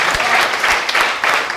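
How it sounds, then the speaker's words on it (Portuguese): A church congregation claps briefly in praise during a Portuguese-language worship service, a short burst of quick, fairly loud rhythmic clapping from many people. "Aplauda o Senhor"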